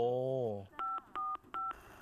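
Public telephone keypad redial tones: three evenly spaced electronic dual-tone beeps, clear and close, following a short burst of a rising-and-falling tone.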